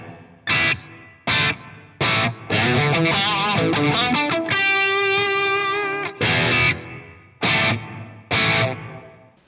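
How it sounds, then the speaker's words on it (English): Distorted electric guitar played through a Boss RV-500 plate reverb set to about one second: short chugging chords with a sustained bending lead phrase in the middle, each hit trailing a brief wash of reverb. "The plate reverb with distorted guitar, if I set it to about 1 second,"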